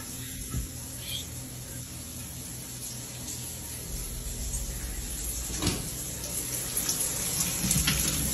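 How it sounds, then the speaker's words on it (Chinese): A bathroom faucet runs water in a steady rushing stream that grows slightly louder, with a few soft knocks like a door or cupboard. "先是浴室的水龙头自己打开了，"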